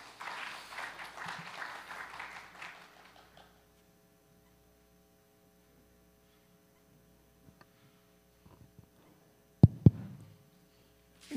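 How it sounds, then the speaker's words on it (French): Applause for a panel at an agricultural financing business forum, a brief spell of moderate clapping that dies away after about three seconds, leaving near silence with a few faint knocks. "Sous vos applaudissements"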